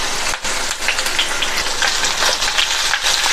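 Curry leaves sautéing in hot oil on a low flame for upma, giving a steady, close hiss and crackle that runs without pause through the clip.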